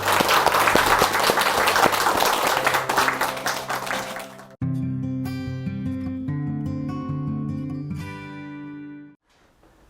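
Clapping from an audience at a 12th-anniversary gathering rolls for about four seconds over background music, then cuts away and the music carries on alone.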